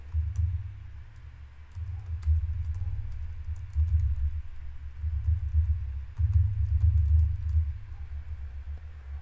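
Code being typed on a computer keyboard in quick, uneven bursts of soft key clicks with short pauses between runs, close and fairly quiet, with no talk.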